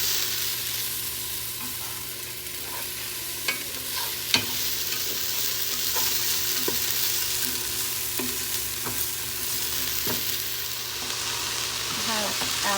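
Peppers, onions and celery sautéing in a pan for beef chili, giving a steady, close sizzle and frying hiss throughout with a few light clicks of stirring.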